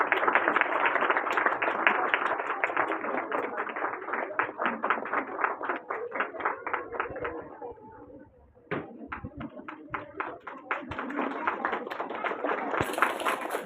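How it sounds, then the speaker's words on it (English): Audience applause at a school felicitation ceremony for phonics and spelling bee students: dense clapping from many hands, dipping briefly in the middle before rising again, with a voice heard faintly under it. "So please give them a big round of applause."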